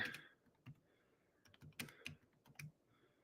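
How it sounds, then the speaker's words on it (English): Computer keyboard typing during a live NBA best ball draft, with soft irregular clicks and short bursts of keystrokes, close but faint and with no one talking. "So let me type this out."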